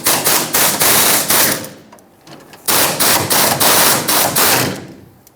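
A power impact tool removes 10mm bolts from the fuel tank shield on a 1999-2007 Ford F-350 7.3L Powerstroke, two loud rattling bursts of hammering with a short pause between, close up.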